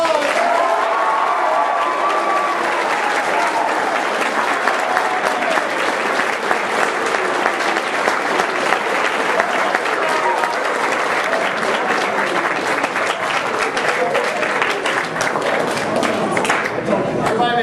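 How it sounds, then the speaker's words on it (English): Sustained applause from a crowd at a high school Air Force Junior ROTC change of command ceremony, steady dense clapping that fills the room without letup and fades only slightly toward the end. "All right, everybody give a round of applause"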